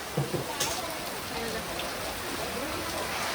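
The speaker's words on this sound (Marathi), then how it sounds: "पाऊस फक्त अचानक लागलाय" Rain pours down in a constant wash of hiss while voices talk over it, a sudden heavy downpour at a turmeric ceremony, where the wedding canopy has collapsed during the meal.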